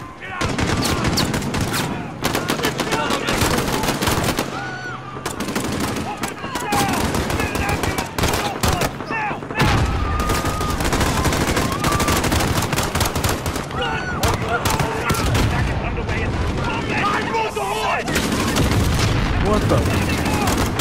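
Rapid gunfire from Call of Duty Modern Warfare fills the scene, dense bursts of automatic fire and single shots running continuously and loud, with shouted voices mixed in throughout.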